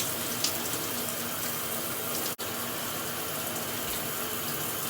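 Steady running water rinses natural hair on a scalp, a close, continuous broadband shower-like rush that breaks off for an instant midway.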